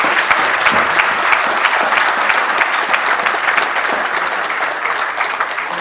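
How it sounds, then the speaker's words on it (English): A crowd at a 2016 peace summit gives loud, continuous applause, thick overlapping hand claps holding steady throughout. "Let's give them all a round of applause for coming up tonight."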